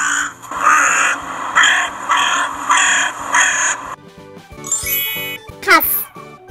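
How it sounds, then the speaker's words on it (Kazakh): A crow caws loudly and close, five harsh evenly spaced calls in a row, then a few ringing chime and jingle tones. "crow"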